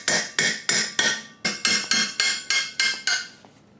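Hammer smacking a part while removing 14mm bolts during a 2001 Kawasaki Ninja 250 motorcycle repair, about eleven sharp, close metallic blows in a steady rhythm.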